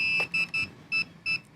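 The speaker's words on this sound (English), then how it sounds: "Let that beep, boom." An FPV drone in bind mode gives a series of five short, high electronic beeps in an uneven rhythm, close and clear, with nothing else heard.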